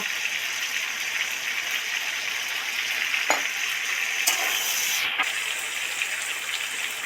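Ground cumin, coriander and chili powder sizzle in hot oil as a little water is added, giving a loud, steady hiss with a few brief sharp bursts, with no talking.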